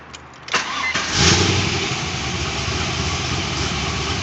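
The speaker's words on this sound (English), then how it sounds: "Here's the car on a mildly warm start." A 1993 Mazda RX7 starts on a mildly warm start: a short starter crank, then the rotary engine catches with a loud burst and settles into a steady, close idle.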